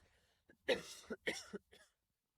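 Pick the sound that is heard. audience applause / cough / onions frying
cough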